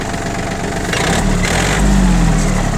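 Yanmar F-220 tractor engine idling close and loud, then rising sharply in revs as the throttle pedal is pressed, holding a higher, steady drone toward the end with no speech.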